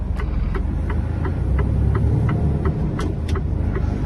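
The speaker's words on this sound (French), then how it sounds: "Il y a une voiture qui arrive, je vais la laisser passer." A car approaches and passes along a road, a steady close engine and tyre hum running throughout with no voices.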